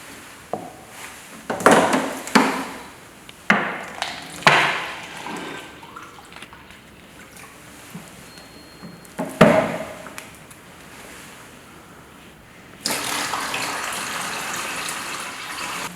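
Water for homemade antibacterial soap is poured and splashed into a container in several short bursts, then runs as a steadier gush near the end, all close and moderately loud with no talk.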